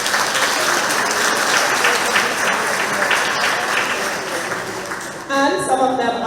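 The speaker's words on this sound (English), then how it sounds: "I want you to give them a round of applause." Sustained applause from an audience of retired persons at a monthly community meeting, steady and dense clapping for new graduates, thinning near the end as a voice begins speaking.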